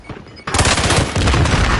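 Rapid automatic gunfire from Call of Duty Warzone erupts abruptly after a quiet start, loud and dense bursts continuing without pause, with no talk over it.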